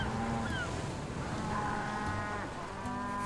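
A herd of cows in Crusader Kings 3 lows continuously, several drawn-out moos overlapping at moderate loudness against a steady ambient bed, with no talking.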